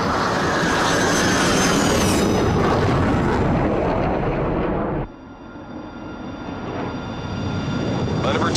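Thunderbird 2, a large animated rescue aircraft, cruising at altitude en route to London, with a loud, steady engine roar that drops abruptly partway through to a quieter hum, with a voice speaking over it.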